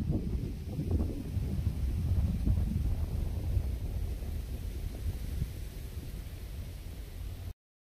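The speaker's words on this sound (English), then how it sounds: "A little windy today," Wind blows across an open rockhounding site in the hills, a low steady rumbling rush with gusty buffeting on the microphone, faint and continuous until it stops abruptly.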